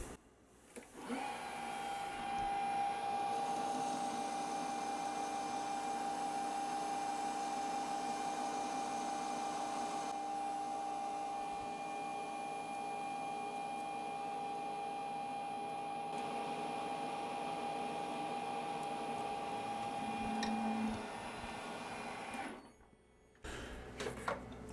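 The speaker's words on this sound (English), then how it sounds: "I'm using the power cross feed at 30 micron per revolution, using a 2 millimeter wide carbide parting insert" Lathe making a parting cut with a 2 mm wide carbide parting insert on power cross feed at 30 microns per revolution, a steady whining machine drone with a sustained tonal squeal, ending abruptly as the cut stops.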